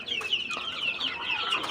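Young desi chicks, about forty days old, cluck and peep in a high, busy chatter close by, several birds calling over one another without pause.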